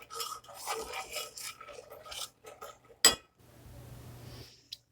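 Powdered sugar stirred into thick candy dough in a bowl, a series of soft rasping, scraping strokes followed by a sharp clink of a utensil against the bowl and a quieter rustle.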